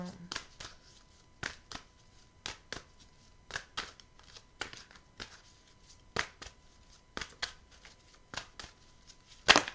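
Tarot cards being shuffled by hand in quick, regular bursts of riffling and slapping, about a dozen distinct close shuffles with short pauses between them, ending in a sharper final slap.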